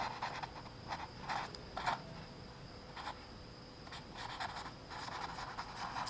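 Pen writing on paper during a hand calculation for a dog-legged staircase slab design, heard as soft, scratchy strokes in several bursts with brief gaps, faint and close over a low room hiss.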